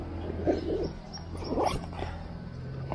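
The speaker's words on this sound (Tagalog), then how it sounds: "So may naririnig na tayo mga ibon guys." Birds calling outdoors during a birding outing, a few soft dove-like coos rising over a low, steady background hum, fairly distant.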